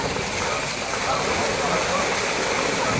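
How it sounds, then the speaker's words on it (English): Water gushing out of the end of a 6-inch pipeline during pigging, a broad, steady rushing hiss like a waterfall, loud and continuous from start to finish. "This is the water coming out of the other end."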